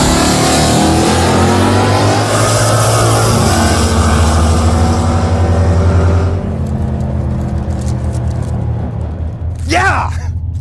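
The Crop Duster project car doing a burnout, its engine roaring loud and close with a steady revving drone that cuts off partway through, followed by quieter rattles and a voice.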